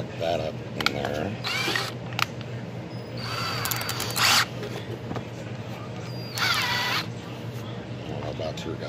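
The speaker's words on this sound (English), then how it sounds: "The old cordless drill." An old cordless drill with a worn chuck runs in short whirring bursts during diesel injection line work on a VP44 pump, heard over a constant background hum while someone talks.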